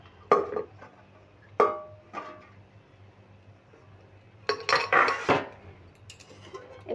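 A pressure cooker clatters as it is handled on a kitchen counter for taro root curry, with a few sharp metallic clanks early on and a busier run of knocks and scraping clatter toward the end.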